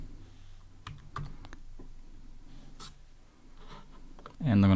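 A computer keyboard is tapped in a few sparse, light keystrokes over a quiet background, close and soft, before a louder burst of sound cuts in at the very end.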